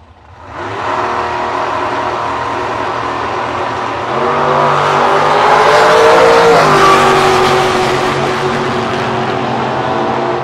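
A 1976 Aspen drag racing car in the Coughlin Cars lane: a loud, close engine drone holds steady, then rises as it revs and accelerates around the middle before easing back to a strong sustained roar, with no talk.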